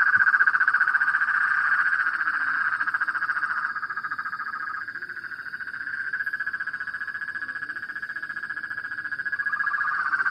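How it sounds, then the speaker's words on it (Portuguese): Frogs croak in dense chorus across a wetland, a continuous pulsing rhythmic trill from many animals, steady and fairly close with no talking. "estão conseguindo ouvir aí o som das rãs?"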